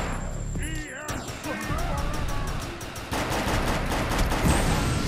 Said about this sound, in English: I'm just, like, fucking shooting these guys.